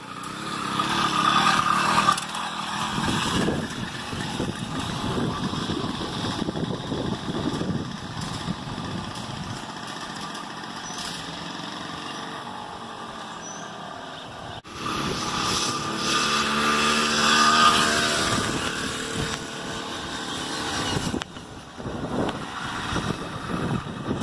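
A Cy-Clone motorized bicycle engine runs steadily for the whole stretch, a loud, buzzy small-engine drone that swells and rises in pitch partway through before settling, with no talk over it.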